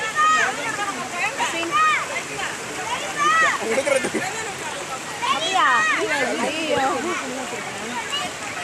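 Flowing river water rushing and splashing steadily at the Papanasam bathing spot, with people talking and calling out over it throughout.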